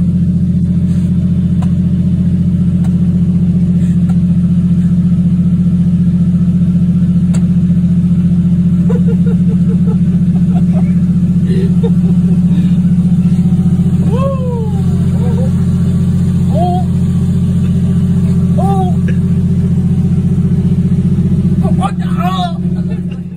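A Toyota Aristo JZS147 with a 1.5JZ engine idles steadily with a low, constant drone across the whole stretch, blipped by a few short revs that rise and fall, while people talk nearby.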